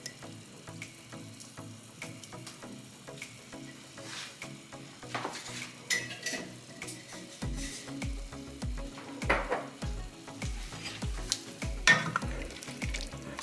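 Vegetables, beef, chicken and shrimp with black and white pepper fry in a pan, a steady soft sizzle with rhythmic scraping and stirring strokes that grow more frequent toward the end, close and without talk.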